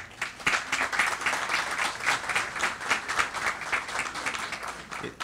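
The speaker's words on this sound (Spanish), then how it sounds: "aquí quisiera pedir un aplauso de bienvenida" An audience at a lecture applauds steadily for several seconds, a dense wash of many hands clapping at moderate volume with no voices over it.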